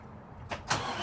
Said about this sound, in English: Now go ahead and start up the truck